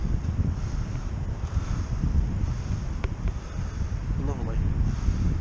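Strong headwind rushing past a cyclist on a road ride into town, a loud steady roar of wind buffeting the microphone throughout, with no clear talking.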